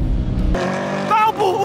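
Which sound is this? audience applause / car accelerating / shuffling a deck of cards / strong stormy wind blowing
car accelerating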